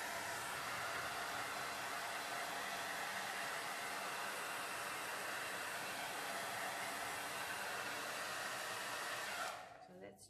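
A hair dryer blows steadily close by, heating a first layer of resin art on a lazy Susan, a loud constant whoosh that runs unbroken for about nine seconds before it cuts off abruptly near the end.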